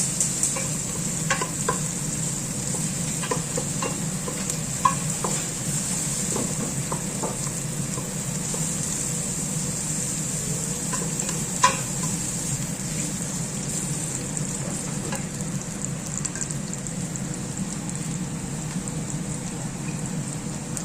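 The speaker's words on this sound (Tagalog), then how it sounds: "Ngayon ako na ilagay yung butter para hindi masunog" Butter sizzling steadily in a pan while beef stew is cooked, a continuous crackling hiss with scattered small pops and utensil clicks, heard alone without voices.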